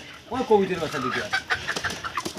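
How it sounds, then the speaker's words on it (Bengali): Native village chickens clucking near a roadside poultry seller, a few close, uneven clucks with a short rising call, mixed with people talking nearby. "শুধু মুরগি দেশি মুরগি"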